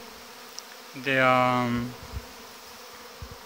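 Young honeybees fly out in August at the entrance of a hive, sending up a brief droning buzz of wings that swells then fades, with a voice speaking briefly nearby.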